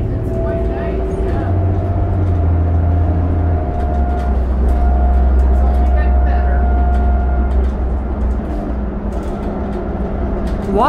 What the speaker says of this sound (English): bus sound like you're going faster than 60K, right? These rev up so high when you go to a certain speed.